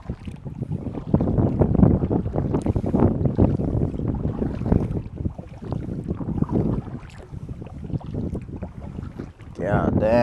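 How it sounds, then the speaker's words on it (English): Strong wind buffets a microphone while paddling a kayak, a continuous low roar and rumble that swells and dips for about ten seconds, with a voice talking partly under it. "It's gotta be so windy."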